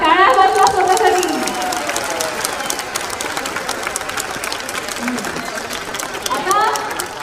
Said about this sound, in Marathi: आता जोरात क्लॅप करा. टाळ्या वाजवा स्वतःसाठी.